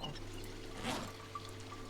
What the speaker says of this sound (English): Get some water to put in this bucket.